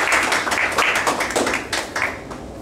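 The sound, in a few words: audience clapping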